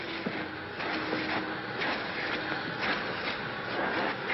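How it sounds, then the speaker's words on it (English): A vacuum cleaner runs steadily in a hotel, a constant loud whirring drone that fills the scene without pause. "I can't hear you over the vacuum"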